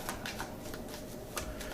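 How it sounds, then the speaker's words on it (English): Playing cards from a tabletop game are riffled and shuffled back into the deck, giving close, crisp bursts of rapid flicking with a quick rhythmic pattern. "We shuffle this back in."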